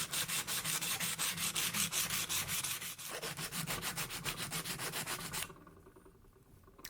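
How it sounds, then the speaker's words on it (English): Sandpaper wrapped around a block of wood rubs along the edges of a hammered copper bracelet in quick, even back-and-forth strokes, close and fairly loud. The strokes stop near the end, leaving near quiet. "Just give yourself a little bit of light sanding."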